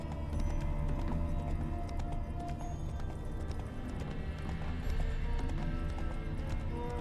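A horse gallops in The Witcher 3: Wild Hunt, a steady dense patter of hooves running continuously under game ambience and music, moderately loud with no speech.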